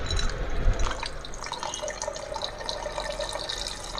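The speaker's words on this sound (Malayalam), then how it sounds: "ഇതിലേക്ക് നമുക്ക് ഐസ് വാട്ടർ ഒഴിക്കാം." Ice water pours into blended lemon in a container for lemonade, a close splashing, trickling stream that is strongest at the start and then settles into steady dribbling.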